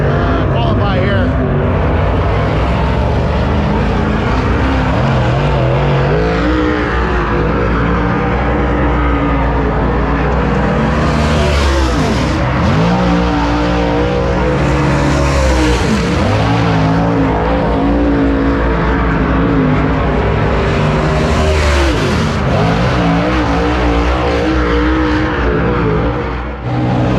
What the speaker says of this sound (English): Watching late models qualify here.